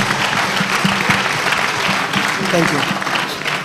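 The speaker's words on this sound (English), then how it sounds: "there's a round of applause" Students at a KNUST e-learning week event break into a round of applause, sustained dense clapping from a crowd with a voice speaking over it.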